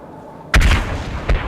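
In the military shooter Arma, a sharp booming blast hits hard and close, followed by a second shorter bang about three quarters of a second later.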